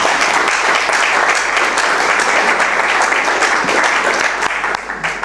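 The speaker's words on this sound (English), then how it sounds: "You shouldn't applaud till you hear what I say." A lecture audience at a faculty of business studies applauds a guest speaker, a dense, steady roar of many hands clapping close by for the whole stretch, thinning slightly at the very end.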